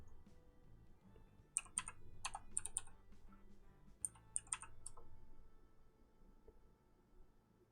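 Computer keyboard typing in short bursts of crisp clicks, moderately close, with pauses between runs over a faint steady room hum.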